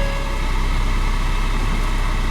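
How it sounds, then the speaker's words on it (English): A 2018 MotionAuto drift car engine running at idle, a loud, steady low rumble with a constant droning hum close by and no talking. "There we are, engine on."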